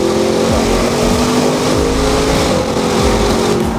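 Sports car engine held against the rev limiter, a loud, close, buzzing roar that stutters rapidly as the limiter cuts in and out without pause.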